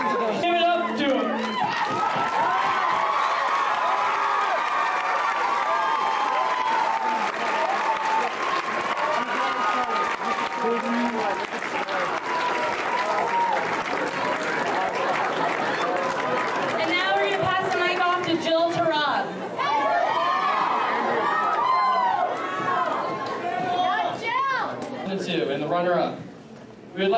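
Sustained audience applause and cheering for a contestant at the Mr. GQ 2002 pageant, loud and continuous throughout with a dense crowd wash and voices mixed in, dipping briefly near the end.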